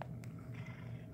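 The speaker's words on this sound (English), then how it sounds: "That's my cat purring in the background." Close, low rumbling purr of a domestic cat, steady and continuous through a brief moment, with no voices.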